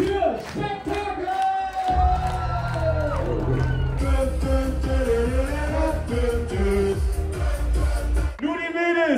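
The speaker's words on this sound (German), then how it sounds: "Großen Applaus für Spektakel!" A disco crowd cheers and whoops loudly for the act Spektakel, the shouting dense and continuous over a heavy bass beat for the whole stretch, with no pause in the noise.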